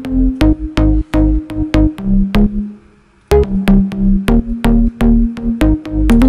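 Deep house bass in a full arrangement, with a punchy four-on-the-floor kick and a warm sustained bassline under it. There is a brief dropout before the groove comes back at full loudness.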